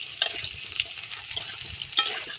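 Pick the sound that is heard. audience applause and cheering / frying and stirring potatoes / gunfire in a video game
frying and stirring potatoes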